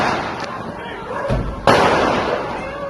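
Two sharp gunshots from a pickup truck driver at a party crack out, the second louder and closer, under a news narrator's voice.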